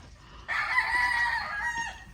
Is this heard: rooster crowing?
yes